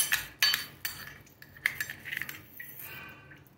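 Metal cutlery clinks against a dish in a few sharp, separate strikes, like a spoon scooping dry rice, with quiet pauses between the taps.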